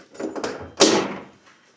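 A door on a 1980 Triumph TR7 under repair is swung and shut, a soft scrape of movement followed by one solid, close thud that quickly fades.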